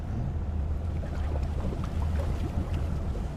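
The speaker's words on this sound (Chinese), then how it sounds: "我研究研究这发动机咋熄火呢" Boat engine idling steadily in a North Atlantic fishing simulator game, a low continuous drone with wind-like noise, alone with no talking.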